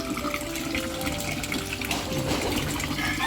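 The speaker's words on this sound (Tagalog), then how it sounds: "Maganda na yung tubig na dumadaloy sa bahay po nila Carla." Water from a deep tank runs steadily into a house, a continuous rushing and gurgling flow with a faint pump-like hum underneath, heard close and alone.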